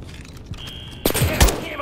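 A grenade blast in Call of Duty: Modern Warfare 3 bursts in suddenly about halfway through, loud and close, with a second heavy boom just after, following a brief quieter stretch with a thin tone.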